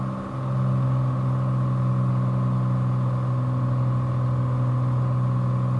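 The piston engine of a Cessna 182T in Flight Simulator 2020, held at 26 inches manifold pressure and 2,300 RPM, drones in a steady, loud, unbroken hum with a strong low tone and no talk over it.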